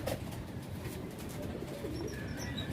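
Racing pigeons in a loft give soft, low, repeated cooing calls close by, with a faint background hum and no speech.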